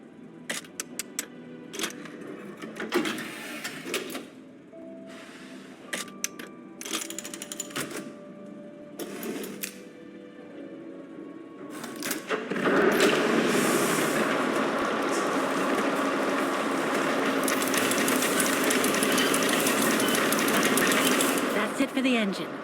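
A key-activated engine mechanism in Syberia: The World Before starts with scattered clicks and clunks, then settles into a loud, continuous mechanical rattle and whir that runs steadily to the end.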